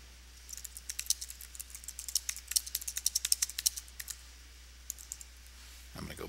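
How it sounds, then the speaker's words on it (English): Quick, light keyboard clicks in an irregular stream, some bursts faster than others, with a brief thump near the end. "we're just going to start typing right here"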